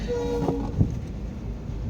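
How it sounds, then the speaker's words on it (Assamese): An approaching train heard from a distance on a rainy-season outing, a steady low rumble with a faint horn tone and a brief clank, moderately quiet throughout. "ট্ৰেইন এইটো আহিছে আহিছে আহিছে আহিছে"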